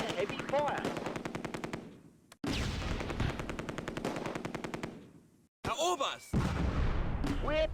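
MG42 machine gun fire from the World War II strategy game Close Combat: A Bridge Too Far rattles in long, loud sustained bursts with brief pauses between them, and indistinct voices are faintly mixed in.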